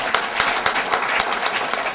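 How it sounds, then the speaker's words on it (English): An audience at a Pan-Africanism forum applauds Peter Bailey, a steady patter of many hands clapping close by, continuous through the moment with no talking. "Let's give a round of applause to Peter Bailey."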